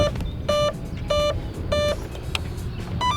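A brushless RC catamaran speed boat's speed controller emits a series of short electronic beeps, four evenly spaced tones signaling a 4S battery followed by a higher chirp, over faint wind noise.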